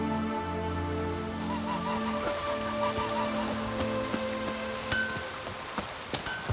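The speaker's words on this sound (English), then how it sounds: "Raining fucking buckets." Steady heavy rain pours down in The Witcher 3: Wild Hunt, a dense hiss of drops on surfaces with a few sharper taps and faint tonal sounds in the background.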